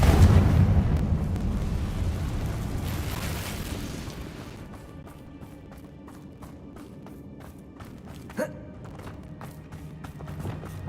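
Confringo spell explosion in Hogwarts Legacy: a loud opening boom that rumbles and fades over several seconds, followed by quieter crackling debris and a single sharp pop.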